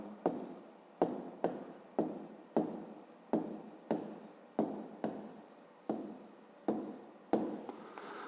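Pen scratching on paper in a steady series of about fourteen short written strokes, each starting with a sharp onset and then fading, close and fairly quiet, while solving a fifth-grade math exercise.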